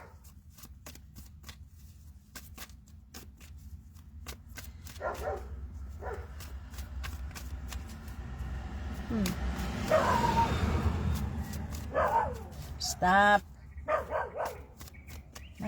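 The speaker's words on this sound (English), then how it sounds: "My dog." A dog barks and whimpers indoors in short bursts, fairly close, mixed in with a person talking and some shuffling noise.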